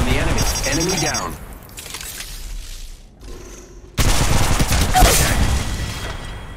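Gunfire in the mobile shooter Apex Legends Mobile comes in loud bursts mixed with game sound effects, with a brief lull before heavy firing resumes, while a character voice speaks.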